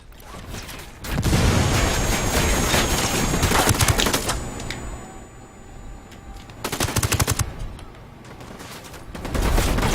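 Rapid automatic gunfire and explosive bursts in a multiplayer video game firefight, loud clustered volleys separated by quieter stretches of continuous battle noise, with no talking.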